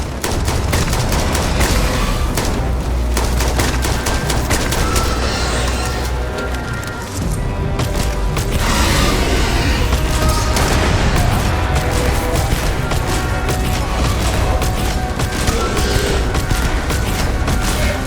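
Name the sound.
gunfire in the video game Starfield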